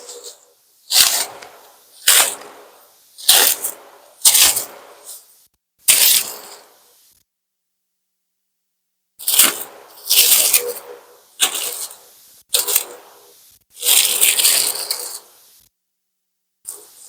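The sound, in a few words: unwrapping packaging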